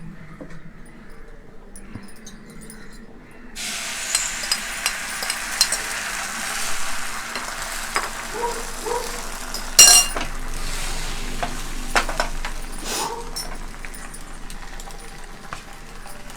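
Chapati for a mushroom Frankie kathi roll cooking on a hot frying pan, a steady close sizzle with occasional utensil clinks and scrapes, starting quietly and then frying continuously throughout.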